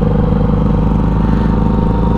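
A Kawasaki Ninja 400 motorcycle on the road gives a loud, close, steady engine drone that holds at an even pitch, with no speech over it.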